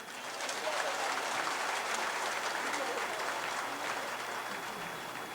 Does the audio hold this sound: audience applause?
yes